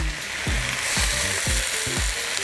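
Loud, steady sizzling of cabbage stir-frying in a hot wok, with rhythmic scraping strokes of a spatula roughly every half second.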